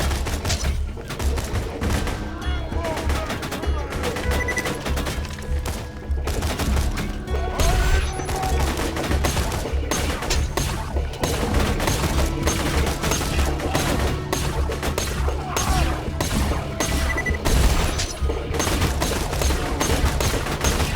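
A bandit light machine gun fires in rapid, sustained bursts in the video game Borderlands 2, dense and loud with short pauses, punctuated by occasional heavier impacts.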